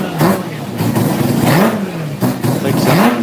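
A Mazda RX-7 rotary engine is revved repeatedly, close and loud. Each burst sweeps up in pitch and drops back, giving a sharp, buzzing pulse three or four times in quick succession.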